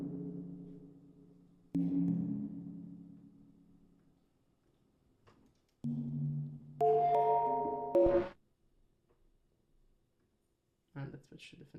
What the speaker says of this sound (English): There also is a modal synth, which is based on kind of like wood plugs or bells.